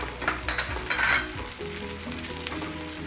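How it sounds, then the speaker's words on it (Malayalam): Chopped onions sizzle and fry in a hot pan with garlic and ginger for a sweet potato dish, a steady close crackle with a few stirring scrapes, no talking. "അതിൻ്റെ കൂടെ ഞാൻ ഈ വലിയതായിട്ട് അരിഞ്ഞിരിക്കുന്ന സവോള ചേർക്കുവാണ്."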